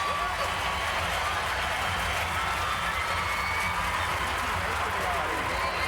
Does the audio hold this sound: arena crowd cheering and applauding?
yes